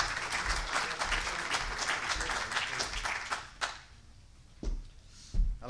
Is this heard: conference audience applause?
yes